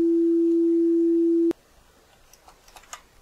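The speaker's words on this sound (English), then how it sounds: "the sine of that times the volume gives you the appropriate sine wave at the appropriate frequency and volume and sample rate" A program-generated sine wave plays as one loud, steady pure tone for about a second and a half, then cuts off abruptly, leaving faint clicks and quiet rustling.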